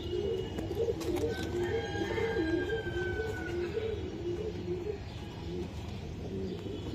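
Saharanpuri pigeons coo in soft, low rolling phrases close by, with a faint siren wailing in the distance and steady background hum.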